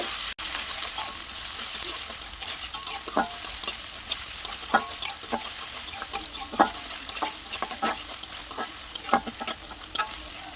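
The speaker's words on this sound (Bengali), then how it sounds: "এখন দিয়ে দিচ্ছি এখানে হাফ কাপ পেঁয়াজ কুচি পেঁয়াজটাকে খুব ভালো করে ভাজবো" Chopped onions sizzle steadily in soybean oil for a bitter gourd fry, with frequent stirring scrapes and clinks of a utensil against the pan throughout, close and fairly loud, with no talking.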